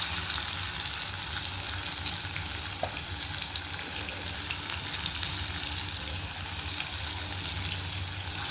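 Food deep frying in hot oil, a steady dense sizzle and crackle that continues throughout at moderate level, with no talk over it.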